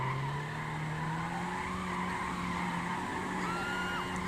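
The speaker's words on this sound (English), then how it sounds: "you can do backwards donuts with this" Bollokan Prairie car in GTA 5 doing backwards donuts: a continuous loud tire squeal and skid with a steady engine drone, sustained without pause, close and alone.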